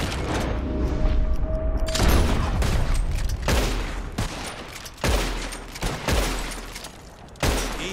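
Revolver shots fired at bottles in a Red Dead Redemption 2 shooting contest, a string of sharp gunshot cracks at irregular intervals, loud and close, each with a short echoing tail.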